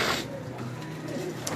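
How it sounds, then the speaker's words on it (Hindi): Pigeons belonging to Ustad Rehan Khan in Karachi coo softly in a steady, low murmur, close by, with no talk over them. "ये कबूतर हैं उस्ताद खान रेहान खान साहब के"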